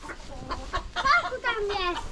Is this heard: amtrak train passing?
no